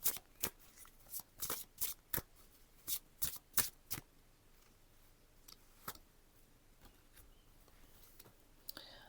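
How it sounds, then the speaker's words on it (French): Oracle cards are shuffled in a run of sharp, close riffling snaps that start quick and regular, then thin out to a few scattered taps before one final draw. "on se prend une dernière carte de l'oracle de la chance"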